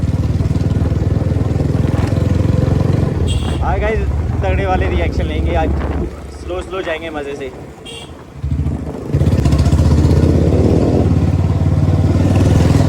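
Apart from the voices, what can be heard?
Bullet motorcycle engine with firecracker-like exhaust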